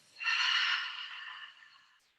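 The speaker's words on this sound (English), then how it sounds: "And then a soft exhale out through the mouth." A single calm, soft exhale out through the mouth, close and airy, swelling quickly and then fading gently over about two seconds during a beginner meditation breathing exercise.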